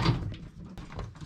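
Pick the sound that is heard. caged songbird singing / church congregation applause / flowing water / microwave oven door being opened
microwave oven door being opened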